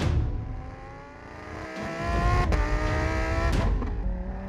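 A Lamborghini Huracan Tecnica's 5.2-litre engine accelerates on track, loud revving with rising tones, a brief dip, then gear shifts and a strong, close roar, with no talking.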